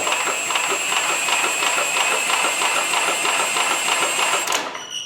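Small snowblower engine, newly tuned up and cranked with a Milwaukee starter, runs with a steady rapid chatter that is loud and close, then dies away near the end.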